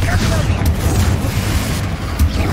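A Confringo fire spell explodes in the Hogwarts Legacy video game, heard as dense, continuous booming blasts with low rumble throughout, loud and close amid the combat din.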